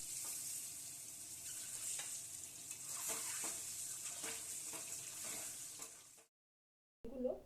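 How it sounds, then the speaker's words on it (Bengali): Boiled eggs fry in hot mustard oil with salt and turmeric in a wok, giving a steady, loud hiss and sizzle with occasional stirring scrapes. The sound cuts off briefly near the end, then a short burst returns. "সেদ্ধ ডিমগুলো দিয়ে ভেজে নিতে হবে"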